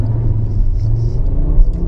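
A Volkswagen Passat B7 with a 2.5-litre inline-five engine accelerates hard with wheelspin on wet asphalt, a loud, close, steady low engine rumble and drone heard from inside the car, with no talking.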